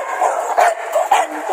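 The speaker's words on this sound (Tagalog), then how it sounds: "Ito po yung aso mo." An Exotic Bully stud dog gives several short, sharp barks close by, spaced irregularly over a second and a half.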